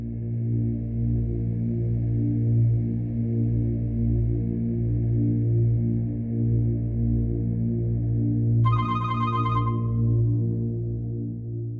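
A telephone ringing in a Pakistani TV drama scene: one bright, buzzing ring tone cuts in near the end and lasts about two seconds over a sustained low musical drone.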